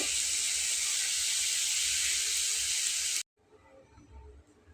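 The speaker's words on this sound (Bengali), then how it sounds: "এপিঠ ওপিঠ দুই পিঠ একদম ব্রাউন কালার করে ভেজে নেব।" Homemade snacks deep-fry in hot oil, browning on both sides, with a loud, steady, close hiss that cuts off abruptly after about three seconds, leaving quiet low rumbling.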